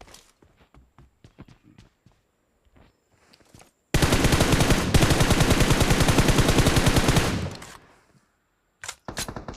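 A long automatic burst of gunfire rattles loudly for about three and a half seconds in a PUBG Mobile match on the Livik map, preceded and followed by sparse clicks and footstep-like taps.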